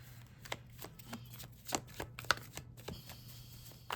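Tarot cards shuffled by hand, with soft riffling and slapping bursts at irregular intervals over a low steady background hum, close and fairly quiet, no talking.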